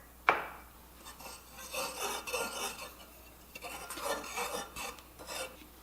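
A utensil stirs all-purpose flour, baking powder and salt together in a bowl, with one sharp knock at the start followed by repeated gritty scraping and rubbing strokes, near and alone.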